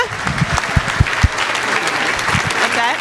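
A conference audience applauds the panelists at a plenary session: a brief burst of dense clapping from a crowd, with voices mixed in.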